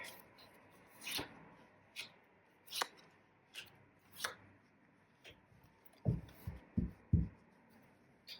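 A deck of oracle cards, the Seasons of the Witch Yule Oracle, is shuffled in quiet, soft bursts of riffling and rubbing, then closes with a few sharper, louder taps and knocks near the end.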